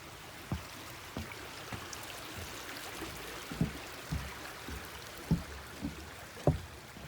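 A small stream runs across a hiking trail, giving a steady close rush of flowing water with scattered soft knocks and thumps throughout, and no talking.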